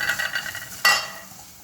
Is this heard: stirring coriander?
yes